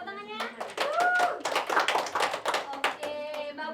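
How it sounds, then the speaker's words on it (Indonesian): Classroom applause from students clapping their hands, a dense sustained patter of claps running through the whole stretch, with children's voices and talk mixed in underneath. "Tepuk tangannya"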